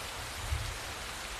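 Heavy rain pours down outdoors near a temple, a soft, even wash of steady rainfall heard alone at a low level, with a faint low thump partway through.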